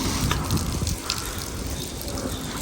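Water gushes steadily through a metal roof gutter during a leak test on a newly installed metal-frame roof of a rowhouse, a continuous close rushing flow with no talk.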